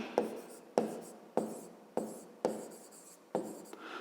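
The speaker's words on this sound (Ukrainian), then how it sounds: "Ну і пишемо пояснення." Pen strokes on paper while working a fifth-grade maths exercise, six distinct sharp scratching strokes at a steady rhythm, close and quiet, with no talking.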